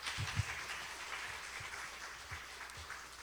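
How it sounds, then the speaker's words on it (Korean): Steady applause from a symposium audience after a presentation, fairly faint and distant, continuing evenly for several seconds, with a couple of soft low thumps early on. "다시 한번 큰 박수 부탁드립니다"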